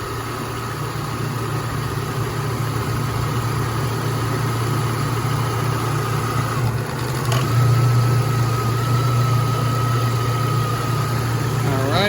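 Ford Ranger engine idling with the MAF sensor unplugged, a steady low hum and vibration close to the microphone, rising briefly in loudness partway through, with a faint high whine throughout.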